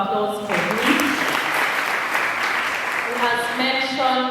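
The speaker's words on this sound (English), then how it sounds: "A round of applause for me." Applause from an audience at a student association general meeting after a speech, a dense burst of clapping that starts after a moment and swells across the hall while voices talk over its start and end.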